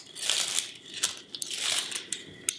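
Dry papery outer skin is pulled off an onion, close soft crinkling and crackling rustles in short bursts with a couple of sharper snaps.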